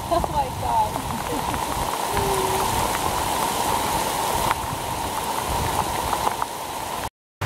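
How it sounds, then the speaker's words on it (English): Torrential rain pours down steadily in a dense, hissing wash of drops on surfaces, with no letup for the whole stretch before a sudden cutoff. "We're back from the torrential downpour"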